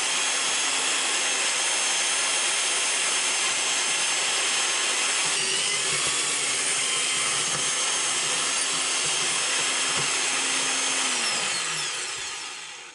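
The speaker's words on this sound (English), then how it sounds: "it drilled okay, but without a shadow of a doubt, that's more, had a kind of a crumblier feel to the drilling" A drill bores into a piece of resin and cardboard with a steady high whine and grinding that runs continuously, then winds down at the end.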